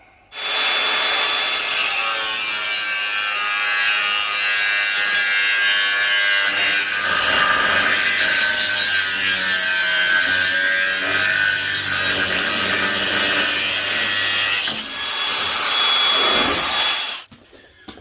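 A galvanized steel piece for an engine stand is cut with a power tool in one loud, sustained, harsh grinding run lasting most of the stretch, close by, before it stops abruptly.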